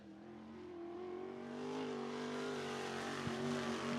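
A 360 sprint car runs a qualifying lap at Cottage Grove Speedway, its engine a steady distant drone that slowly rises in pitch and loudness, heard alone.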